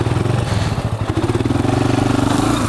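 A 400 motorcycle revs hard during a wheelie, its engine note loud and close with a steady pulsing throb that rises and holds.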